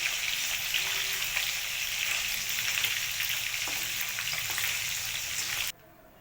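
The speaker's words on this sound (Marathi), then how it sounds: "आता आपले हे पनीरचे पीस छानपैकी तळून झालेले आहेत" Paneer pieces frying in a pan for a paneer matar bhaji, a steady close sizzle with faint bubbling and occasional light pops, cutting off abruptly near the end.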